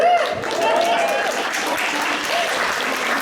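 An audience claps steadily at a community gathering on Indigenous homelessness, a dense, even patter that fills the whole stretch with no clear break, close and fairly loud.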